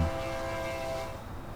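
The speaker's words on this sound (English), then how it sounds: "that's the sound of a train" A train horn in the Transport Fever railway game sounds in a steady sustained blast with rumbling rail noise beneath, fading slightly toward the end.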